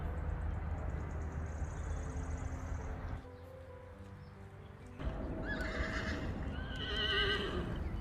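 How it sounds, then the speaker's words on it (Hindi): Horses neigh in a forest-edge field in Germany, loud whinnies close by with soft hoof clip-clop underneath, a brief quieter pause, then more high whinnying calls. "कितने खूबसूरत घोड़े"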